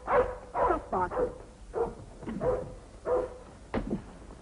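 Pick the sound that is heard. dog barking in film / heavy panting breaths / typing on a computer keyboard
dog barking in film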